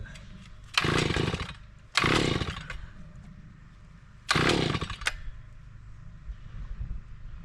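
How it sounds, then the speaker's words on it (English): A gas-powered earth auger engine that is not spinning or priming properly bursts into three short, loud roaring revs, each cutting out after about a second, with a quieter idle-like rumble between. "This auger has been top notch. I don't know why it's not spinning like it should."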